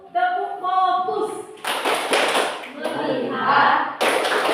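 A classroom 'tepuk fokus' clap pattern performed by a group of students, with claps and slaps arriving in quick rhythmic clusters after a sung or chanted lead-in voice.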